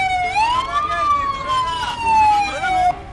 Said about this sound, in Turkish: Ne geldi lan bu ambulans?